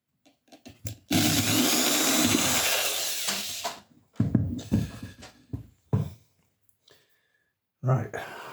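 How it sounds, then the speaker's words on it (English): A power drill bores into a DIY lithium battery pack enclosure in a loud, sustained whir of about three seconds, followed by shorter bursts, handling clatter and someone talking. "Then we'll start drilling."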